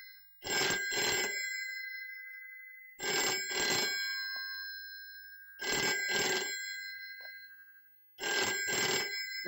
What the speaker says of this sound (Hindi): फोन अटेंड कीजिए, देखिए किसका फोन है।